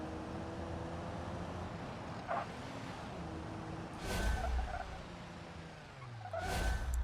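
Car engine in the RLS Career Overhaul racing game, a steady harmonic drone with rising and falling pitch as the throttle opens, plus two loud bursts of tire skid or hiss partway through and at the end; no talking.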